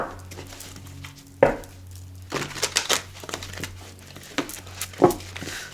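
Playing cards shuffled at close range in a quiet room, heard as a few crackly, papery riffling bursts with short pauses between them and no talking.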